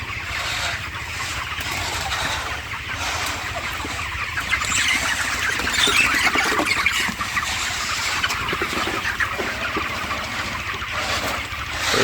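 Chickens on a poultry farm cluck and chatter continuously as a dense flock, a steady crowded noise with an engine-like hum underneath, no voices.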